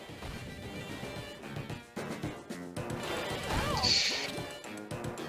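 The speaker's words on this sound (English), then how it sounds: "So I have to break the glass panels, obviously, and then it will hit the boss." Glass panels smashing in the Scooby-Doo! Unmasked video game during a boss fight, several sharp crashes and thwacks layered over busy game music and effects, fairly close, with a bright shattering burst near the end.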